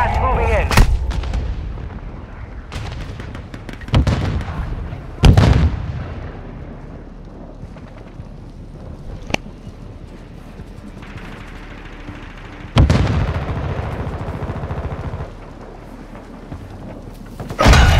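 Gunfire and explosive blasts in the video game Warzone, several sharp heavy bursts at irregular intervals over a low rumbling battle ambience, with faint game voice chatter in between.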